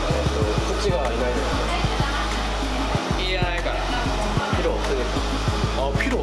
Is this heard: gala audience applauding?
no